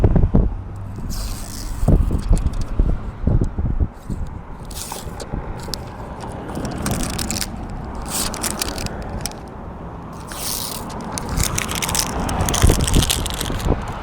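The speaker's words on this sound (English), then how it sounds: "Let me go ahead and remove all the strips now." Adhesive strips being peeled off a car windshield after a DIY chip repair give close, crackly tearing and scraping noises in uneven bursts, with no one talking.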